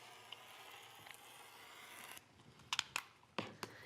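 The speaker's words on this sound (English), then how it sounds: "I'm just going to take the scissors or rotary cutter" Scissors or a rotary cutter slicing along a line through a paper sewing pattern: a soft steady scraping cut, then several sharp close snips and clicks near the end, fairly quiet with no talk.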